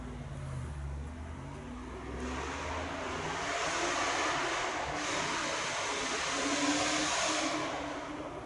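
A Ford Mustang with a 2.0 engine drives past nearby, its steady broadband engine and road noise swelling and fading over several seconds with no one talking.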